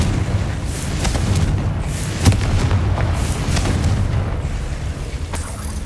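A Confringo fire spell explodes in Hogwarts Legacy, a dull boom rising from a dense rumbling game background, with a sharper burst around the middle and little talking.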